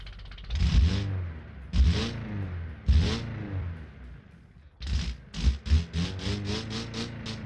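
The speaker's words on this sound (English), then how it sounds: "The idling sound is very funny." Four-cylinder engine of a 1955 pickup in BeamNG, idling with an uneven, sputtering low rumble and swelling in several loud blips, close and alone with no talk.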